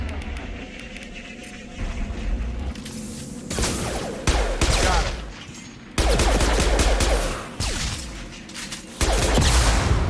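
Rocket explosions and heavy gunfire in the Mass Effect 2 video game, with loud, dense bursts of blasts and rapid fire arriving in several waves, each onset sharp and booming, sustained close up with no speech.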